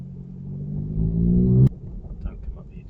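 A nearby car engine revs hard, rising in a sustained aggressive roar before cutting off abruptly, followed by quieter road noise.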